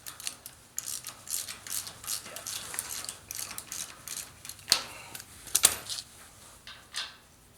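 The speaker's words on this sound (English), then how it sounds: "torque your 4 bolts nice and snug for the PTO." A ratchet tightens the bolts on a Ford 8N tractor, with bursts of quick pawl clicks repeating in short strokes, close and crisp, with a few sharper metallic clinks and no talking.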